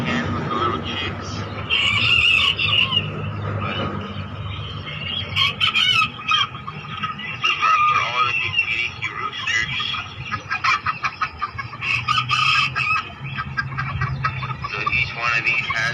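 Small kikiriki roosters and hens crow and cluck repeatedly in a pen, with bright, overlapping calls that run throughout, and someone talks intermittently over them.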